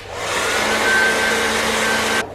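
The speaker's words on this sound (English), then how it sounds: "After that, I'm using my blow dryer to dry this up." A blow dryer drying a wig's lace gives a steady, close whooshing hum that holds evenly for about two seconds and then cuts off abruptly.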